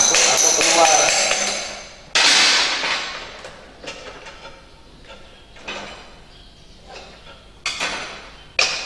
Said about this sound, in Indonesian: kita bisa pakai batu dengan obeng atau yang lain untuk menuntun as masuk atau keluar